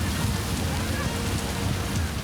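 Continuous heavy rain in Sikkim during landslides, a dense, even hiss of falling water with no breaks, fairly loud and close throughout.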